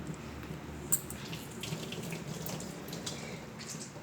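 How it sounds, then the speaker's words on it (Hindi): Water pouring during cooking in a kitchen, a steady close tap-like splashing stream with a few small spikes, with no voices. "पानी गिर रहा है"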